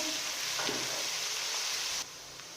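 Pieces of arbi (taro root) and potato fry in a pan with a close, even hiss of sizzling that holds steady, then abruptly drops to a quieter sizzle for the final moments.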